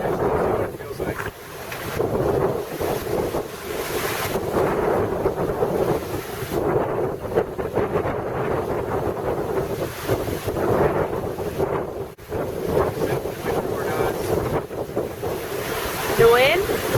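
Wind and heavy ocean swell while sailing off Marseille, a loud continuous roar of gusts buffeting the microphone and surging waves against the boat, with only faint voices underneath.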